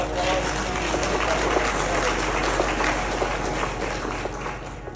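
An audience at a county sheriff's office presentation on scams applauds the new sheriff. The clapping holds steady for several seconds over a low electrical hum, with faint voices underneath.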